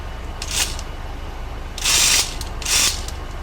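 A Bell and Howell 414 windup motor with a clutch that fails to engage properly gives short mechanical bursts: a brief click-whir, then two longer grinding whirs, with quiet gaps between them.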